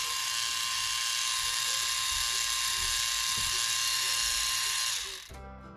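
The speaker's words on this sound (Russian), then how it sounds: "Конечно, он не бесшумный, но звук гораздо тише, чем у моего Брауна. Посмотрите, как крутится щетка." A small electric rotating brush runs nearby with a steady, buzzing motor whine. The hum stays even for about five seconds, then winds down and cuts off.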